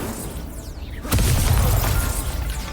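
Incendio fire spell cast during a duel in the Hogwarts Legacy video game: a sudden whooshing burst of flame after a brief swirling lead-in, then a sustained roaring rumble.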